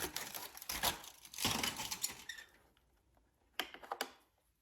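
Original foil packaging of a vintage Polaroid Big Shot camera crinkles as it is handled: a few soft bursts of rustling and crumpling, close and quiet, separated by short pauses.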